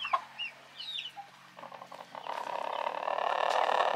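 A soft, trilling purr-like chirping from a young bird, with clucks and faint calls at first, then a steady rising rustle and murmur of fowl nearby.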